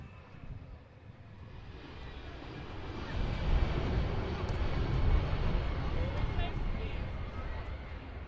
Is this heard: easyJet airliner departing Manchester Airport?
yes